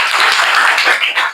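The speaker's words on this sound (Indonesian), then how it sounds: "Tepuk tangan dulu." Classroom pupils clapping their hands together during an Islamic religious education lesson, a brief loud burst of close, dense clapping from a group.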